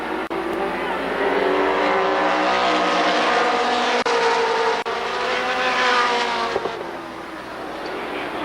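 Stock cars roaring past at Columbus Motor Speedway, a loud sustained engine drone rising and falling as the pack sweeps by, with an announcer calling the race over it.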